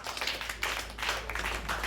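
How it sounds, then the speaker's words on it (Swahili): A church congregation claps for Jesus in a series of rhythmic, uneven bursts of many hands, moderately loud over a low room hum. "Mpigie Bwana Yesu makofi."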